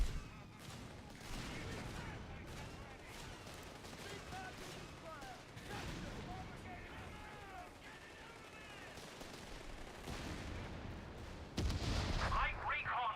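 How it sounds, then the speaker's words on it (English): Artillery barrages and gunfire from Company of Heroes 3 rumble steadily under continuous tournament commentary, with a louder burst of shelling near the end. "Recon artillery is coming in again."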